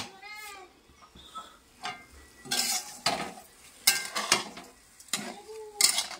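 Rice and lentils for khichuri are stirred in a pot. A spoon scrapes and clatters against the metal in close, repeated strokes, with a faint sizzle and a few brief pauses between bursts.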